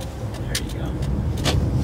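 An electric car accelerating hard, heard from inside the cabin as a steady low rumble of road and motor noise, with a few brief higher hissing bursts over it.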